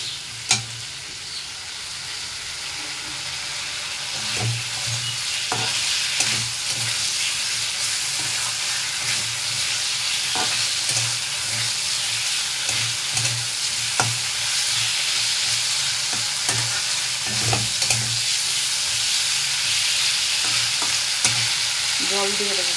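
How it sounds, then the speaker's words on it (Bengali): Vegetables stirred in a pan over a hot flame after the spices are fried, for an egg curry: a steady frying sizzle throughout with repeated soft scraping strokes of the spoon, up close and without voices. "আমি এবার সবজিগুলো অ্যাড করে দেবো। সবজিগুলো নেড়ে চেড়ে নেবো।"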